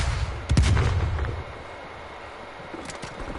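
Heavy gunfire in a Call of Duty match, a loud close burst of shots with a booming report that fades into distant scattered cracks.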